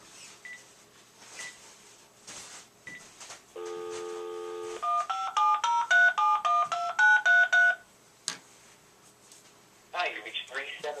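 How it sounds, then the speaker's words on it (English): Telephone keypad dialing tones, a run of short evenly spaced beeps at steady pitches ringing out clearly for several seconds, with a brief burst of speech at the end and faint background voices. "He's calling my cell phone."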